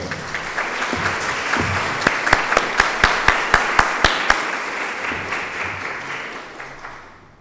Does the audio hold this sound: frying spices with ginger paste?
no